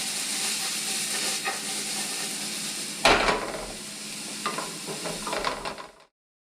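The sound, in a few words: sautéing vegetables for Filipino lumpia in a pan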